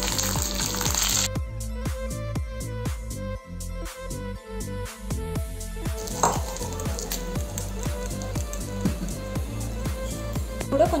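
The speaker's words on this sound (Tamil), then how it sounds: "இப்போ இந்த தாளிப்பை வந்து நம்ம ஆட் பண்ணிக்க போகிறோம்." Urad dal and curry leaves sizzling hard in hot oil as a tempering for curd semiya, a steady loud crackling hiss with sharp pops and spoon clatter throughout.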